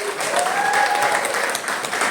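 A congregation claps hard for visiting friends from the DPP at a Sunday Catholic Mass in Pulau Rimau, a dense, steady burst of applause with no voices above it.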